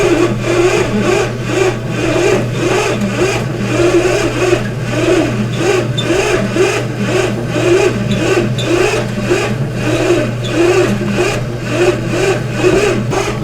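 A bread machine kneads cinnamon raisin bread dough with a steady, close motor whir and a rhythmic pulsing churn that repeats about every half second, running on alone without talk.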